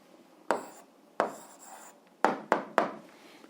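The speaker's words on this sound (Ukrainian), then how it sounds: "зараз записуємо відповідь, пишемо відповідь" Pen writing an answer on paper, five short close scratching strokes, each a quick attack that fades, spaced unevenly over a few seconds with no talk.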